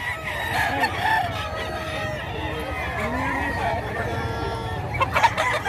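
Fighting cocks crow and cluck among gamecocks for sale at a market in Bocaue, Bulacan, several birds loud and close, with someone talking.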